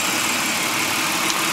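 A 1999 Dodge Intrepid with a 3.2-liter, 24-valve engine runs steadily on a cold winter day in Ohio, a close, even, loud rumble with no voices.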